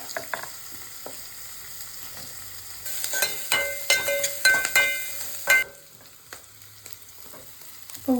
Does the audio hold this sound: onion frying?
yes